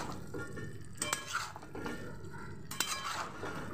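Mutton and potato pieces with spices being stirred in a pot, giving soft scraping and wet shuffling with a couple of sharper metallic clinks, close and moderately quiet, with no talking.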